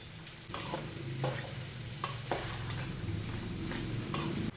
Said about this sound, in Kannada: ಇವಾಗ ಈರುಳ್ಳಿ ಕೂಡ ಒಂದು 5 ನಿಮಿಷ ಫ್ರೈ ಮಾಡ್ಕೊಂಡಿದ್ದೀವಿ